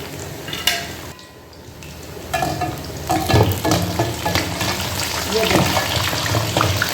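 Already-cooked beef tikka pieces fry and get stirred in a pan, with a steady sizzle and scraping clatter that quieten briefly near the start, then build again and continue loudly.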